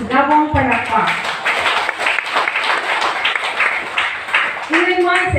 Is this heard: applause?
yes